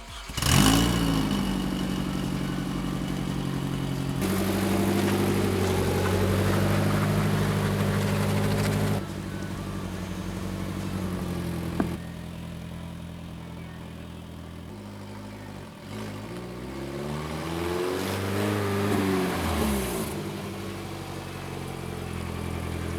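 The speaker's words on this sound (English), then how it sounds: "we're going to just drive the car up and down the road, see if we can lock up the rear tires with the Hydro E" A Nissan 240SX being driven slowly up and down a road to test a newly fitted hydraulic e-brake, its engine idling and revving at moderate distance with rising and falling pitch, and no voices.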